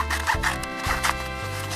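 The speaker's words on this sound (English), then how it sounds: "I'm going to cut this newspaper into long strips" Scissors cut newspaper into long strips for a craft wig, making a run of steady crisp snips and papery rasps close up, with no speech.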